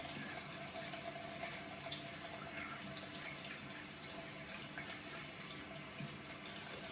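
Water runs steadily from a tap while a Gillette Mach 3 Turbo razor is rinsed under it, a faint continuous splashing with small irregular bursts throughout; no speech.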